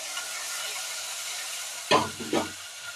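Chopped onion hisses as it cooks in hot oil, a steady bright sizzle throughout, broken near the end by two short louder stirring clatters.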